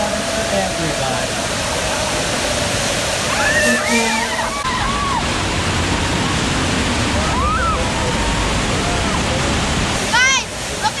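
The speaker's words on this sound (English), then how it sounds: "Guys, look at the flood." Rushing floodwater gushes and sloshes on a Universal Studios Hollywood backlot tour, a loud, steady roar of splashing water with a few squeals and faint voices in the crowd.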